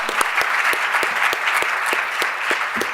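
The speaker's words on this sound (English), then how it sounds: "let's give a round of applause for our advocacy panel." An audience claps for an advocacy panel at a charter school presentation, with sharp individual claps standing out over a continuous bed of applause for a few seconds.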